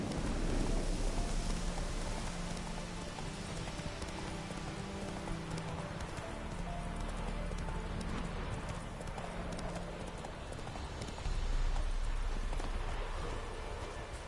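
Steady horse hooves clip-clop throughout with a continuous rain-like wash behind them, heard in a PS4 video game.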